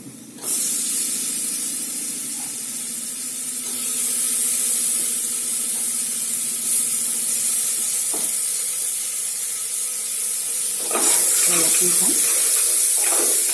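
Tomato goes into a cluster bean curry frying in oil, a loud continuous hissing sizzle close up that swells near the end with a few clattering stirs.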